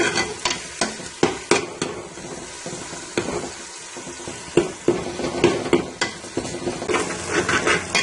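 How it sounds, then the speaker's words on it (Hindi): Minced keema frying and being stirred in a pan: loud, close sizzling under repeated sharp scrapes and knocks of a spoon against the pan, steady throughout with no talking. "हम कीमे को अच्छे तरीके से इसमें भून लेंगे"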